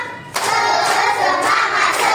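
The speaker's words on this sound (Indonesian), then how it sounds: "Tepuk semangat." Children in a classroom clap together in a patterned spirit clap, a near, dense run of hand claps that starts sharply after a brief quiet and keeps going at a steady pace.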